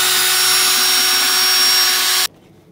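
A power drill with a mixing paddle churns strawbale plaster, a loud steady whine and whir that runs continuously for about two seconds and then cuts off abruptly, leaving near silence.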